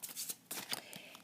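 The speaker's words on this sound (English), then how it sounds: "so I do the shuffling like this" Tarot cards riffle in quick, papery bursts, two short shuffles close up with soft flicking between them.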